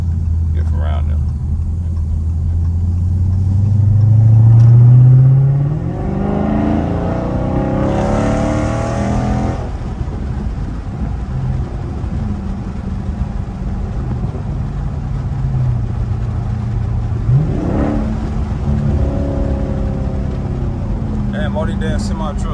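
Loud Dodge Daytona Scat Pack engine driving through traffic near a car meet, with a deep rumble that swells into a strong rev around the middle and eases off, then a second rising rev later, continuing steadily under the cabin noise.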